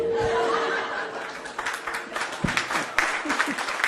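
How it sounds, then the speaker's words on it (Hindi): An audience at a company training session breaks into scattered clapping mixed with laughter and chuckles, building in the second half of a few seconds. "तालियां का आवाज सुना?"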